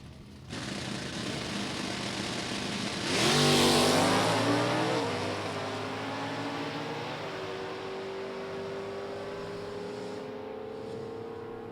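A 1987 Camaro drag race car with a stick transmission blasts past at Summit Motorsports Park, its engine swelling to a loud peak then falling away as it pulls off into the distance.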